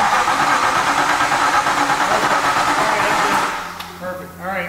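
A crashed Aston Martin Vantage engine cranks with little power, a loud, steady mechanical churning up close that drops off and settles into a quieter, uneven running note.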